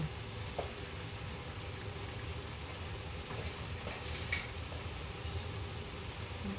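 Water with boba pearls bubbles and hisses at a low, steady boil, faint and continuous, with a few soft pops and clicks.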